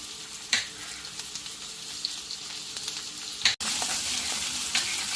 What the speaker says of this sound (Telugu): ఇవి జస్ట్ ఫ్రై అవడానికి.